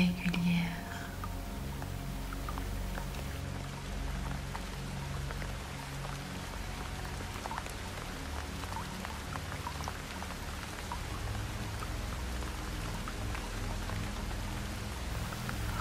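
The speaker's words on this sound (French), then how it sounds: "Comme une pluie douce, fluide, régulière." Soft, steady rain patters continuously with fine scattered droplets over a meditation, while a quiet, whispery voice speaks over it throughout.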